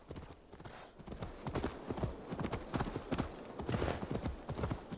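Steady clip-clop of horse hooves trotting in the video game Assassin's Creed Valhalla, a quick regular rhythm of sharp knocks, fairly close and continuous with no voices.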